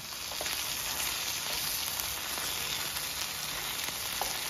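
Beef pepper lunch sizzles steadily in a hot pan while being stirred, a dense, continuous frying hiss with small crackles and occasional scraping ticks, close and even throughout.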